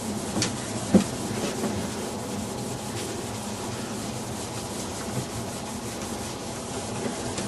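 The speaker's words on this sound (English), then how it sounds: "you can get one of these little blocks. It's got the felt on it. That's just really polishes that surface up." A felt block polishes a waxed snowboard base with continuous close rubbing and sanding strokes, a steady scratchy friction broken by a sharper knock near the one-second mark, with no voices.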